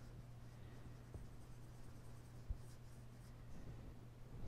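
Pencil shading a gradation on toned paper, a steady soft scratchy rubbing close up over a low electrical hum, with no talking.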